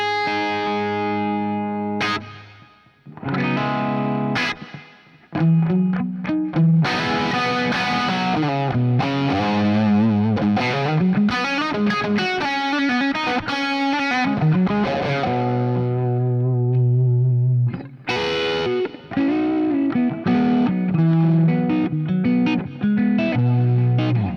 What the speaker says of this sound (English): Actually, I'll have a little bit of chorus going on.